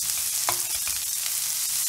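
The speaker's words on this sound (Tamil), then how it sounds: "வெங்காயம் வதங்கிக்கிட்டு இருக்குல்ல" Onions sauté in a pan for a Sivakasi-style chicken dish, a steady close sizzle with a few brief clinks of stirring, without talking.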